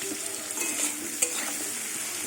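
Pumpkin pieces sizzle steadily in oil in a pan, with one light scrape of a utensil partway through.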